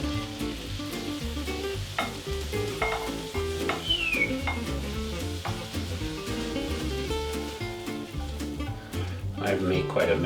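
Pork fried rice sizzles and crackles in a hot pan during stir-frying, with steady frying noise, utensil scrapes and clinks, and music playing underneath throughout.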